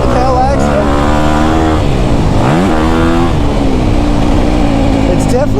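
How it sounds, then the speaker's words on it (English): A 2024 Honda CRF250R dirt bike engine revs loud and close on a motocross track, its pitch rising and falling through several sweeping pulls, with a voice talking over the engine note. "Oh, this thing revs out good."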